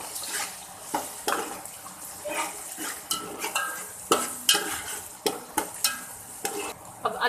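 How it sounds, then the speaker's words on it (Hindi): Ginger garlic paste, three tablespoons, stirred and frying with onions in a pan, giving a steady close sizzle broken by repeated scraping stirs, with no talking. "अब मैं इसमें डालूंगी, ये देखें, 3 खाने के चम्मच अदरक और लहसुन का पेस्ट है"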